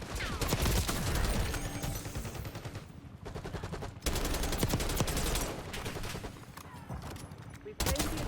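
AK-74 automatic gunfire in Black Ops 6: loud, rapid bursts of shots that repeat across the span, broken by short pauses, with game effects and voices underneath.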